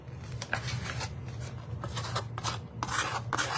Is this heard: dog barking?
no